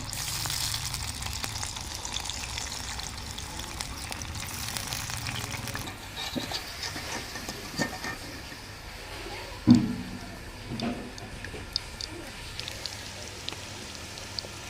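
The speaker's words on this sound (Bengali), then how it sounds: "এই দেখেন আমি একদিকে ভাজতেছি।" Potato slices fry in oil with a continuous crackling sizzle like light rain, broken by a few louder pops and clatters of handling near the cooking.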